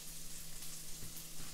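Quiet, continuous sizzling and crackling of food frying in a pan, a soft hiss with a faint hum underneath.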